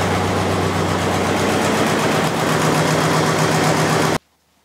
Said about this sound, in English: is now running on idle and it's fairly stable.